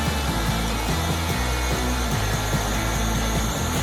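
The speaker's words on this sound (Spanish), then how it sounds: "El motor en su velocidad trata de aumentar a 200 y mantenerse en 200." An electric motor running on an ABB 800 frequency drive, a dense close mechanical whir with pulsing low tones as it holds speed, steady and loud throughout.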